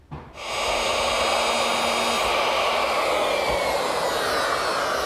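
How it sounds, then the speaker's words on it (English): A router fitted with a guide fence and a 3/4 inch straight bit milling a stop dado in pine. It spins up with a loud steady high-pitched whine that holds almost unchanged while cutting. "I use my router with this guide fence and a 3/4 inch straight cutting bit."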